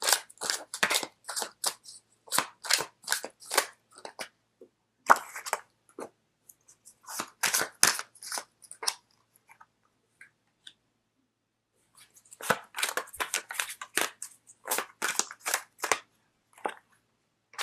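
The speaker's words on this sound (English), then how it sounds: "So let me just pull out. Let's do 3 cards." Tarot cards are shuffled and pulled, producing crisp papery flicks and riffles in quick bursts separated by short quiet gaps, close and fairly clear.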